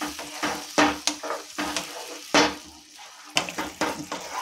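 Tamarind pulp simmers in a pan and gets stirred, giving soft sizzling with a string of clattering scrapes and knocks of the spoon against the pan at close range.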